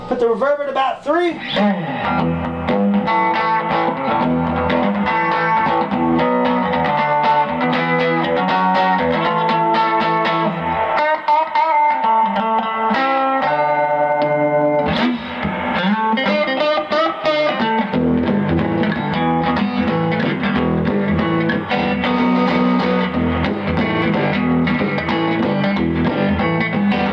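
An electric guitar rings through a vintage Rickenbacker TR14 tube amp with the reverb set around 3, playing continuous chords and melodic runs with a slightly washed, spacious tail and a brief pause midway.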